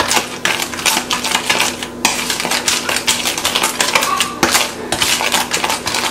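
Butter and cinnamon being combined in a bowl, with a utensil clinking and scraping against the dish in quick, busy strokes, close and fairly loud throughout with no talking.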